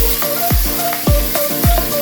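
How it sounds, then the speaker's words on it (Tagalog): Garlic and onion sauté in a hot pan with a loud, steady sizzle, and a utensil stirring through it gives several sweeping scrapes at close range. "ginisa na natin yung bawang sibuyas"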